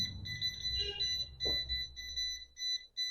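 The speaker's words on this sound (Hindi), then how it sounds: "जो इसकी बीप की आवाज़ हमें सुनाई दे रही है" A laser level sounds its not-level alarm: rapid, shrill electronic beeps repeating in quick bursts with short gaps, close and steady, while faint handling noises and a low rumble sit underneath.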